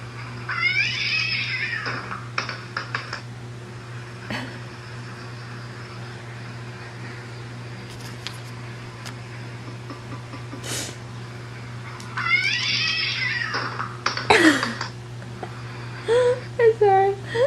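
A dog whines in rising, wavering cries, two separate bouts of whimpering, heard over a steady electrical hum with occasional faint movement noises.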